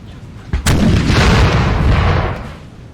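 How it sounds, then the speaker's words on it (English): A heavy artillery boom from a Napoleon: Total War battle at Aspern hits suddenly, then rolls into a loud, sustained rumble that slowly fades. "Artillery's not as potent, though, as it was before."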